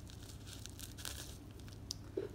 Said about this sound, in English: Let me make sure that I didn't cut the cardboard.